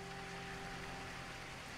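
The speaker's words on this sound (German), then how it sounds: "schirmt die Augen gegen den fallenden Regen ab" Rain falls steadily in a radio drama, heard as an even, faint hiss of drops spread across the whole moment, with a thin steady tone running beneath it and no talking.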